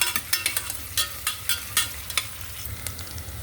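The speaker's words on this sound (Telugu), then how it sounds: "పచ్చిమిరపకాయలు వేగుతాయి. అప్పుడైతే ఉల్లిపాయలు కలర్ మారే వరకు వేస్తాను." Green chilies and onions sizzle in a hot pan, a steady frying hiss punctuated by sharp, irregular crackles and pops, close and alone.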